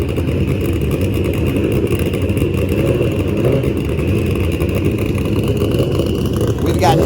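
Turbo Hayabusa drag motorcycles racing at a drag strip, a loud, continuous engine roar with a rising whine near the end, under a commentator's talking.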